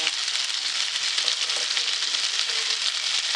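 Squid (makla) frying in a pan over low heat, a steady close sizzle with a constant hiss throughout and no talking.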